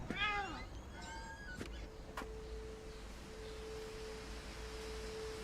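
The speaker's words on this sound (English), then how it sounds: "Why do I hear a cat?" In the video game What Remains of Edith Finch, a cat meows twice in quick succession, clear and fairly close, followed by a couple of soft clicks and a faint steady electronic tone under quiet room noise.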